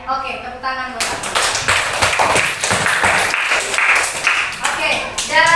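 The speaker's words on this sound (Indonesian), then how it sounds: "tepuk tangan buat aku" Students in a classroom clap together during a lesson. The clapping is dense and fairly loud, with a rough, uneven rhythm, and it comes right after a brief voice.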